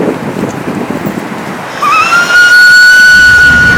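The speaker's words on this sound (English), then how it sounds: "This one's a whistle." A whistle, likely a shell or traditional carved type, sounds a steady high tone that starts about halfway through and holds to the end, over a noisy room background.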